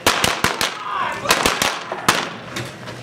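Sharp gunshots crack in rapid bursts during a staged western gunfight show in Tombstone, about a dozen loud close reports spaced unevenly, with shouting voices mixed between them.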